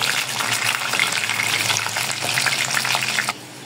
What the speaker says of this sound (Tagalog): Prito.